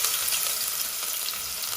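Onion fries in a pan for a Bengali rohu fish curry, a bright continuous sizzle with soft stirring scrapes, close and steady throughout.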